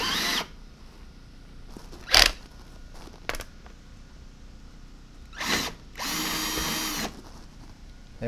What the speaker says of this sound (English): There we go, first hole drilled.